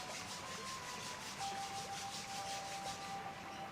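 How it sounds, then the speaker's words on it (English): Palms rub together in a quiet yoga session, a soft, steady, close-up swishing friction heard alone with no talk. "Rub the palms together."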